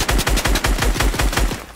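Automatic gunfire from a shooting prop in the video game Fortnite: a loud, rapid burst of about a dozen evenly spaced punchy shots in under two seconds.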